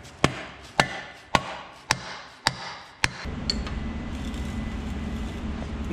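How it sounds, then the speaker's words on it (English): Six evenly spaced dull knocks of a rubber mallet striking the back of a power steering pump on a 1967 Mustang, followed by a steady low mechanical hum. "now I'm just gonna take my rubber mallet and just kind of hammer on the backside here"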